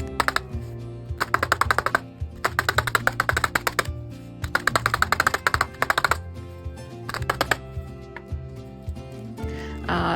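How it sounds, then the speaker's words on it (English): A barbed felting needle jabs over and over into wool roving, making quick, dense runs of soft tapping clicks in bursts that stop and start, set under steady background music. "It was a little ASMR action going on with the stabbing."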